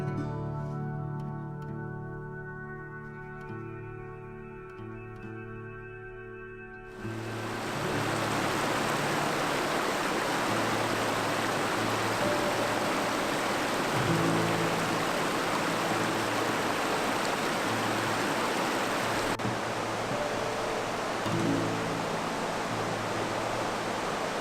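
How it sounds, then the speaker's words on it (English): A river flows loudly in autumn, a dense, steady rushing roar; faint musical tones fade out before the water surges in and dominates, with no talking. "the noise of the flow of the river is quite loud"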